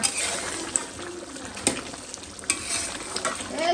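Cumin seeds frying in hot oil in a home kitchen pan, giving a continuous crackling sizzle with a few sharp pops and scraping stir strokes.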